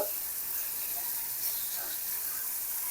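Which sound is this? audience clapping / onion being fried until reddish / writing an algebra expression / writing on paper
onion being fried until reddish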